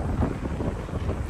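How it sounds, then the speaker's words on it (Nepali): Wind blows outdoors near a shopping centre, buffeting the microphone as an uneven, low rumbling roar in short gusts with no voices. "हावा चल्यो"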